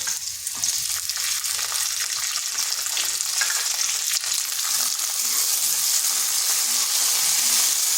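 Green peas fry in a pan for a vegetarian dal, giving a steady, hissing sizzle with a few soft stirring scrapes. The sound stays close and continuous, with no talking.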